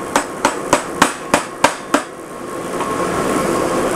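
Seven sharp, evenly spaced hammer blows strike a chisel while a DIY gift box is pried apart, loud and close, followed by a low steady hum with no talking.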